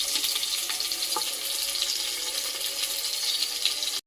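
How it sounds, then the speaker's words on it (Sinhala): Garlic frying in hot oil at home, a dense, steady sizzle held close and loud from start to finish with no talk. "තෙල් එකට සුදු ලුණු එකතු කරගන්නවා."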